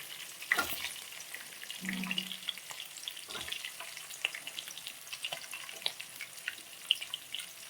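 Onions fry in a pan while making avalakki, a quiet continuous sizzle with scattered crackles, a few utensil knocks and a short low scrape near the start.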